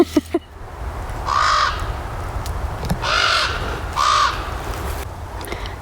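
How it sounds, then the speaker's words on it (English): Three loud, drawn-out crow caws ring out at steady intervals outdoors, each a harsh sustained call over a low background rumble, after a few sharp clicks at the start. "Crows always have a lot to say."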